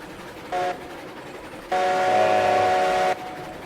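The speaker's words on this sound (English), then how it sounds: "I don't think that they planned on you driving the train up the river." A train in the RailRoads Online video game running along its track, a low rumble overlaid with two tonal horn blasts, a short one and then a longer sustained one, steady and moderately loud.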